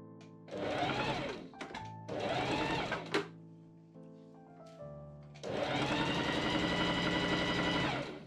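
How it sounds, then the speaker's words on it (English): A sewing machine runs in three bursts while stitching the side body seam of a Regency-style linen men's shirt, a short run, a second run, then a longer steady run after a pause, close and loud with no talking. "I machine sew the side body seam from mark to mark."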